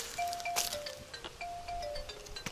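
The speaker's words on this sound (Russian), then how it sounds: "Оп, колокольчик." A small bite-alarm bell on a feeder fishing rod at a river tinkles in a few light, quick rings, faint and slightly distant over outdoor ambience.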